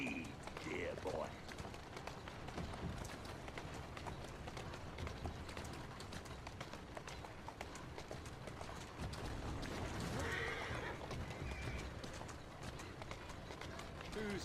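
Steady hooves clip-clop from a horse in Assassin's Creed Syndicate, a rhythmic trot running through the scene alongside game ambience and a few brief voices.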